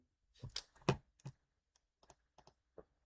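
Keys tapped on a computer keyboard while operating a homemade desktop assistant program: a burst of close, uneven clicks, several louder strikes at first, then sparse single taps spaced apart.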